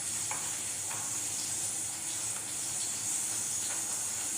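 Onions sizzle steadily in a hot pan in a home kitchen, a continuous close hiss with faint clinks and stirring scrapes, no talking.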